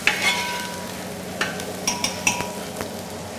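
Garlic and curry leaves fry in a Kerala restaurant kitchen, giving a soft, steady sizzle broken by several light metallic clinks and scrapes of stirring.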